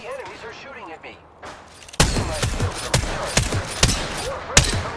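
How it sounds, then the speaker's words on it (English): Enemy gunfire in a video game bursts in after a stretch of talk, with loud, sharp shots rattling off in quick irregular volleys and the occasional heavier crack standing out. "The enemies are shooting at me."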